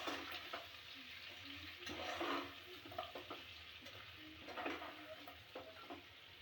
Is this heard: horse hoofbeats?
no